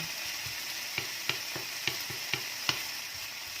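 Bacon cooks in a pan for rösti with a low, steady sizzle, punctuated by a handful of light clicks and taps from a utensil stirring the strips.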